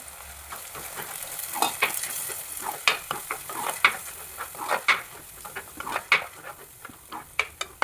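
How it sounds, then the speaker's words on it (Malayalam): Spice paste sautés in hot oil, with soft sizzling broken by repeated scraping and stirring strokes at an irregular, lively rhythm, close and moderately loud. "ആദ്യം അരപ്പ് ആ എണ്ണയിലിട്ടൊന്ന് വഴറ്റിയെടുക്കണം"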